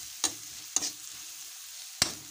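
Buff meat egg fried rice being stir-fried in a pan, heard as three sharp, separate clattering strikes of a utensil against the pan over a quiet, faint sizzle.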